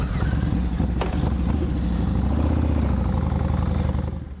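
A motorcycle engine runs steadily at close range, a continuous low rumble with a brief sharper blip near the start, holding level before easing off at the end; no talking.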